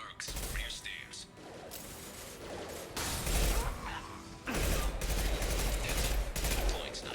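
Gunfire exchanged with mercenaries in the sci-fi shooter Mass Effect 2, bursts of crackling shots and mechanical clatter arriving in several loud waves amid game sound effects.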